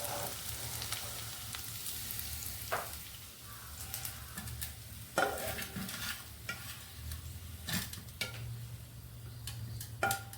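Bitter gourd frying in a pan while being stirred: a soft, continuous sizzle broken by repeated sharp scrapes and clacks of the spoon against the pan, close and fairly quiet.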